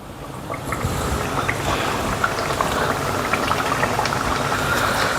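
Bhatura fries in hot oil for chole bhature, a steady, dense sizzle with crackling and bubbling pops, close and loud, running continuously with no talking.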